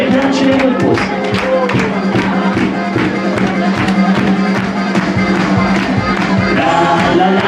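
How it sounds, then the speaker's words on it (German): A live party crowd at a benefit concert claps along in steady rhythm with a pop song, the regular claps sitting under music and singing throughout, loud and close. "wir klatschen den Rhythmus"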